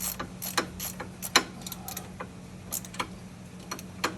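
Ratchet wrench snugging a hose fitting on a 2017 Subaru Crosstrek during a front wheel bearing replacement, giving scattered sharp mechanical clicks and ticks over a steady low hum, close and moderately loud.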